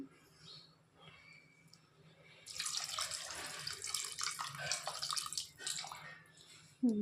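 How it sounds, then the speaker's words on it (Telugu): Water pours from a jug into a pressure cooker of mutton curry, a steady rushing splash for about four seconds after a quiet start, with a small clatter at the end. "కొంచెం వాటర్ పోసుకుంటా ఈ జగ్గుతోని"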